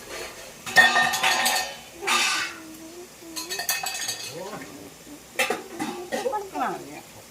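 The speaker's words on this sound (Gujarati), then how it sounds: "સરખી હલાવી તેલમાં ટમેટા અને ડુંગળી ચડી જાય" Tomatoes and onions frying in oil for egg bhurji are stirred in a pan, giving close scraping and clinking strokes over a light sizzle, with a voice faintly in the background at times.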